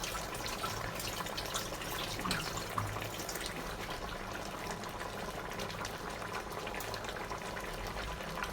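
Spinach stew simmers in a pot, giving a steady, dense bubbling hiss that stays even and close throughout, with no voices.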